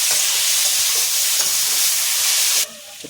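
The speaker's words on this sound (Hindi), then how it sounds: "अच्छे से इसको भून लेंगे, मिक्स करके अच्छे से भून लेंगे।" Mixed vegetables and onion for masala Maggi hiss and sizzle loudly as they are stir-fried in a pan, with soft scraping stirs underneath. The sound cuts off sharply near the end, and a couple of faint clinks follow.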